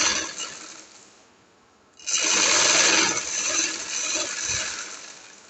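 A sewing machine stitches lace onto the sleeve of an angrakha-style frock, running in a steady, close whirring burst after a quieter start, with no talk over it.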